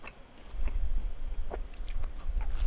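Someone bites and chews a piece of doughy, undercooked food close up, with soft wet munching and occasional crunchy bites, and no talking.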